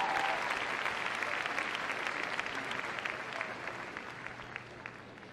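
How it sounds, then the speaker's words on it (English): Arena crowd applause at the Crufts 2014 heelwork to music freestyle international competition, a broad sustained clapping from a large audience that slowly tapers in loudness. "Give them a round of applause to leave the arena."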